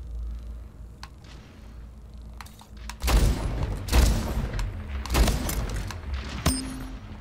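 Shotgun blasts in the video game Splitgate, several heavy booming shots in quick succession after a quiet stretch, loud and close with a final sharp report near the end.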